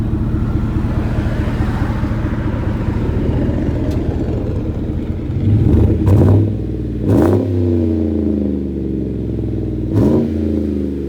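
A lifted GMC Sierra with a 5.3L V8 and loud aftermarket exhaust sits at a steady, deep idle up close, rising into a few short throttle blips near the end.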